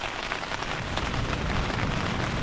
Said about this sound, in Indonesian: ini udah hujan lagi. Kalian bisa dengar itu.